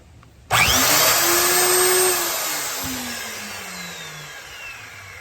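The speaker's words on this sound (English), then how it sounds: "This is a belt sander, and, let me just show you what it does." A belt sander switches on abruptly and runs with a loud, steady rushing whir and high whine, the motor tone easing slightly downward as it keeps spinning alone.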